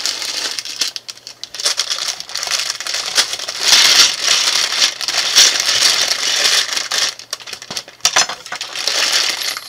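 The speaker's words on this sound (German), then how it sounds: "die Tüte mit den Platten habe ich mal ausgeleert" A bag of small plastic toy building brick plates is poured out onto a surface, giving a dense, continuous clatter and rattle of many tiny pieces for several seconds, close and loud.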